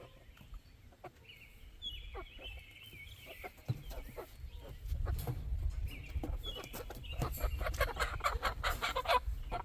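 Backyard hens cluck and chatter in a small flock, soft murmuring calls and sharper squawks close by, with rustling and shuffling growing busier toward the end.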